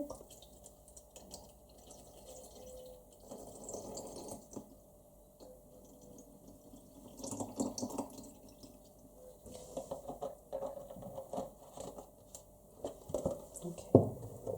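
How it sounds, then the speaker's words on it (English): Almond milk poured into a smoothie blender jar, a soft liquid trickle and splash with faint drips, quiet and close, coming in short bursts with pauses between them. "I'm just going to add the almond milk"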